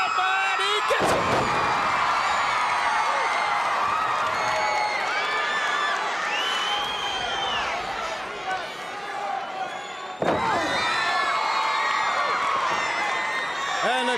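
A 1986 NWA Mid Atlantic wrestling arena crowd cheers loudly after a vertical suplex, a continuous roaring din with whoops, under commentator talk, with a sharp impact-like break near the end.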